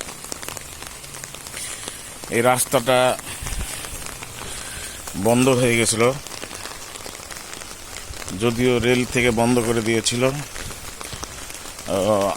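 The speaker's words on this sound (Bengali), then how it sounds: "যদিও বর্ষার দিন বৃষ্টি হচ্ছে" Monsoon rain falling on a road near a railway station colony, a steady soft patter and hiss running underneath while someone talks in several bursts over it.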